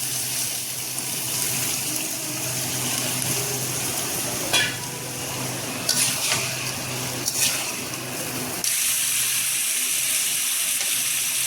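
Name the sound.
sautéing pointed gourd with prawns in a pan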